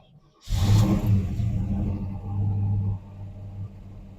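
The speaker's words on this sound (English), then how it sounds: "Cold start up on our W-31 Oldsmobile." A heavily cammed 350 V8 in a 1970 Oldsmobile Cutlass W-31 cranks and fires on a cold start, bursting into a loud roar. It then settles into a lumpy, rumbling idle with a brief dip in revs.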